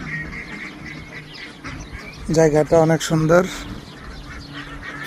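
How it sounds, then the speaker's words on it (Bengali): Ducks at a duck and chicken farm in a rural hilly area give a short burst of loud, close quacking near the middle, while someone talks over the ambient background. "দেখুন এই প্রবাসীয় হাঁস মোরগের খামার আছে"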